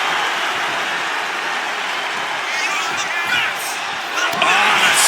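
Steady roaring arena crowd noise from a WWE 2K wrestling match, a continuous loud wash of cheering that swells briefly near the end, with no clear talk over it.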